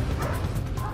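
A dog barks and yips repeatedly at close range during a firefighter call-out in Montélimar, short rapid bursts filling the moment.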